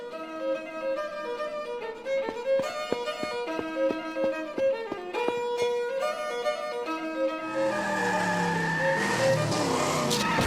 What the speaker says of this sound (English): A big red sports car.